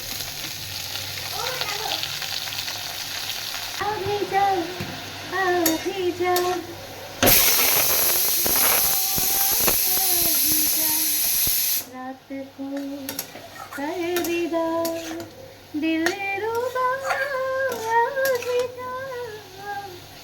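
Leafy greens tossed into a hot pan of fried pumpkin and potato burst into a loud, roaring sizzle that settles back to a steady frying hiss with utensil clinks, while a voice sings or hums over the cooking.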